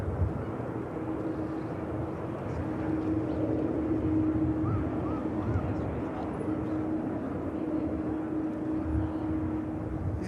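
An Airbus A350 climbing out after takeoff from Manchester Airport leaves a low, distant engine rumble with a faint steady hum, fairly quiet and even throughout, while people talk softly in the background.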